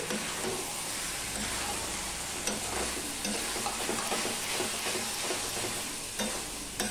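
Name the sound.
stirring dal and okra with spices in a pan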